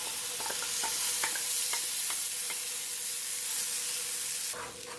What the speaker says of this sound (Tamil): நல்லா மிக்ஸ் பண்ணிக்கலாம் கொஞ்ச நேரம் வேகட்டும்